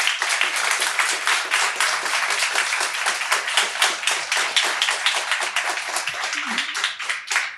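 Strong, dense applause from an audience after a general's lecture on cyberspace as an operational domain, many hands clapping steadily and loudly with a slight rhythmic pulse.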